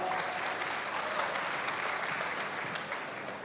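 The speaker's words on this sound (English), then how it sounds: "Please welcome them with a big round of applause" A conference audience claps to welcome panelists onto the stage, producing a steady, even wash of applause from many hands that holds for the whole stretch at moderate volume.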